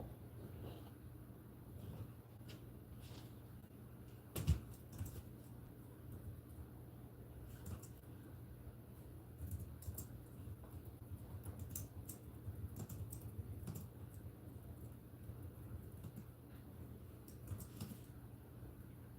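Soft, irregular keystrokes tap on a computer keyboard for a sustained stretch, faint and close over a low steady background hum, with no one talking.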